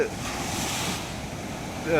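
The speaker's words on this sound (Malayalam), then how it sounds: "പ്രക്ഷുബ്ധമാണിപ്പോൾ വളരെ ഡേഞ്ചർ കണ്ടീഷനാണ് കടൽ നിൽക്കുന്നത്" A rough, dangerous sea churns during heavy rain, heard from a fishing boat out on the water: a constant loud wash of waves mixed with wind buffeting, swelling into a surge at the end.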